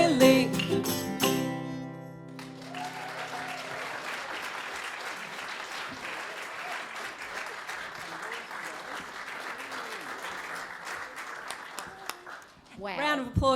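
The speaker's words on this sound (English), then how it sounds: "Round of applause for the kids." An audience at a panel discussion applauds children after a song, sustained dense clapping that fills most of the stretch, preceded by a sung tone and ending with a voice.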